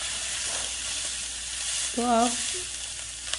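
Okra (bhindi) frying in hot ghee makes a steady, close hiss of sizzling, and a voice speaks briefly over it near the end.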